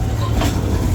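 The Capital Railway ride train at Six Flags America rolls along in a steady, loud rumble with low mechanical noise heard from on board, no clear voice.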